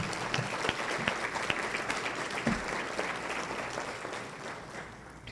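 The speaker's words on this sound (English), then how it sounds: "Please give them a round of applause." Applause at a lawyers' luncheon, a room full of steady clapping with a few sharper claps standing out, gradually fading toward the end.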